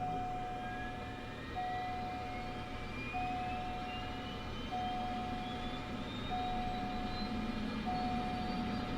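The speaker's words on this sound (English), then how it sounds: "You can hear the engine coming on." Cessna 208 Grand Caravan turboprop spooling up during startup in a flight simulator, a steady faint drone with a rising whine and a repeating tone beeping at regular intervals.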